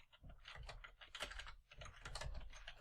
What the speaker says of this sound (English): we can just type in